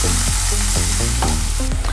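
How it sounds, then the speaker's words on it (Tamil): Chopped onion fries in hot oil ahead of a peppery cauliflower fry, a steady loud sizzle broken by rhythmic scraping strokes of stirring, about four per second, with no voices. "ஒரு நிமிஷம் நல்லா ஃப்ரை பண்ணலாம் ஆயில்லையே"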